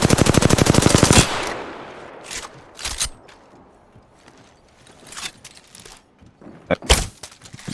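Video game gunfire opens with a rapid automatic burst of about a second, followed by scattered single gunshots, impacts and clatter at varying distances, with quieter gaps in between.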